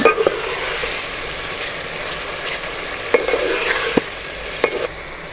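Potatoes and peas frying in a pan for aloo matar pulao: a steady, even sizzle broken by a few sharp spatula knocks and stirs.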